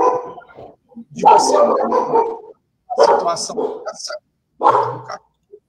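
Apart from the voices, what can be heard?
dog barking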